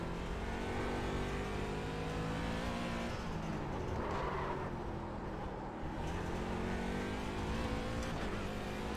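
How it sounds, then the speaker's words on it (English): Race car engine lapping a track in a racing video game, a steady droning whine that rises and falls as the revs shift, with no pauses. "I love driving this car around this track."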